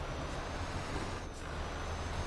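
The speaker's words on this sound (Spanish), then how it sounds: "Es que me gusta escuchar cómo es el sonido del motor y todo esto." An Irizar i8 bus engine in Euro Truck Simulator 2, a steady low rumbling drone with dense broadband noise that holds evenly throughout, with a slight dip partway through and no talking.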